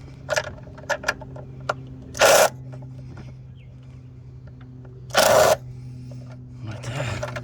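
A ratchet with a swivel extension works on the coil pack of a 2007 Jeep Liberty 4x4, giving two short, loud bursts of clicking a few seconds apart, with faint ticks and a low hum between them.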